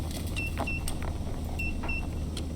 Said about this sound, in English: This is beeping because somehow it's got copper ore coming through there.